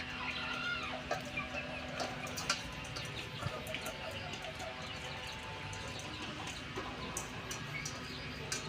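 Chickens cluck softly at some distance, a scattered run of short calls and faint ticks over a quiet, steady background.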